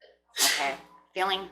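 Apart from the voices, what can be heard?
sneeze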